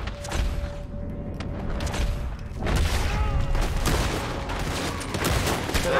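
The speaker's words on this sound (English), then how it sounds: "I keep getting shot by the other guys before I can pull the trigger on him." Rapid gunfire from a Red Dead Redemption 2 shootout against gunmen, a dense fusillade of overlapping shots and booms running continuously and loudly, with a brief lull midway before the volley picks up again.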